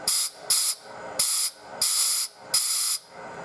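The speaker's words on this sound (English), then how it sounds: "I did squirt some WD-40 down in the hole to keep everything nice and lubricated" Five short, sharp hissing sprays of WD-40 squirted into a carburetor jet hole on a 1991 Suzuki 1100G with Mikuni BST 36 carbs, evenly spaced and close, with quiet workshop noise between bursts.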